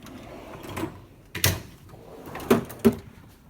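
A drawer of a Snap-on KRL toolbox holding screwdrivers slides open or shut, giving a few sharp metallic clunks and rattles close by, with no voices.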